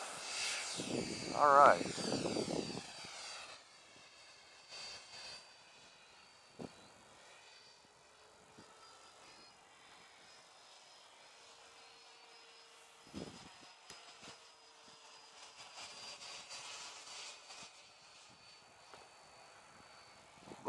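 A Taft Hobby Valkyrie RC model jet, built as a T-45, flying on its maiden flight, a distant thin whining turbine drone that fades and returns after a brief loud whoosh at the start, with occasional voices.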